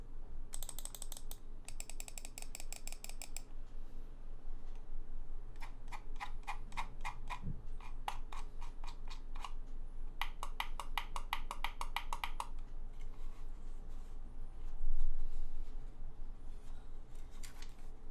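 Bursts of sharp, rapid mechanical clicks from a Logitech M190 wireless mouse's buttons in clusters, with pauses between, over a steady low background hum.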